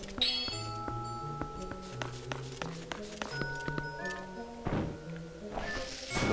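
A cannon fires in The Legend of Zelda: Twilight Princess, a single dull, fairly loud boom about two-thirds of the way through, with a second softer burst near the end, both rising over steady, plucky game music with no talking.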